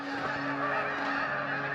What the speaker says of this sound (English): it sounds like a flock of geese like crazy